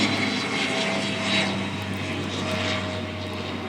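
A military aircraft passes overhead, a steady droning engine with a low hum and airy roar, loud and continuous with no talking.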